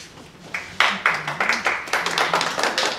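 A city council at-large debate audience claps: a scattered crowd at moderate volume, rising in uneven bursts, while a voice carries on faintly underneath.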